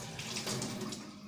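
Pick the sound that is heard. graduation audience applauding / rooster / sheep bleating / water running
water running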